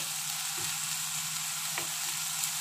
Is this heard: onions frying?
yes